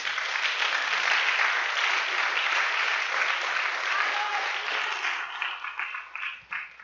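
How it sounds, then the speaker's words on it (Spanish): A congregation at a Spanish-language church service applauds loudly, with thick continuous clapping that holds steady and then thins into scattered claps and a few voices near the end. "Denle un aplauso a mi Jesús."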